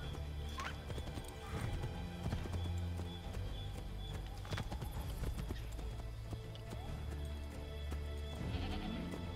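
Horse hooves clip-clopping at a gallop during riding in Assassin's Creed 3, steady repeated hoofbeats under game ambience and background music.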